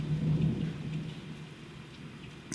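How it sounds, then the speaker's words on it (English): Hailstorm in Cambridge, UK, with a low rumble of close thunder rolling under a dense patter of hail and rain hitting surfaces, ending in a sharp crackle, no talking. "Oh shit, lightning close. Look at that hail."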